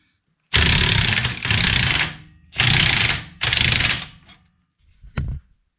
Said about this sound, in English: Now we're going to loosen the compressor.